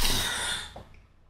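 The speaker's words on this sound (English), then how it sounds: "damn coughing, go away" A single person's cough, a harsh broadband burst that fades over about a second into quiet breathy noise, close to the microphone with no speech.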